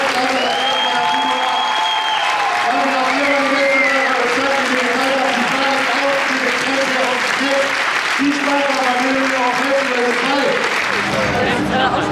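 A large audience applauds after a stage show at Movie Park Germany, producing dense, loud, sustained clapping and cheering throughout, while music and tonal voices carry on over the crowd.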